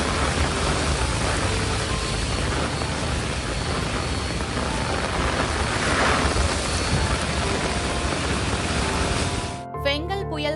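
Heavy rain from Cyclone Fengal pours over Chennai, a loud, dense, steady roar of water that fills the scene for about nine seconds before cutting off abruptly.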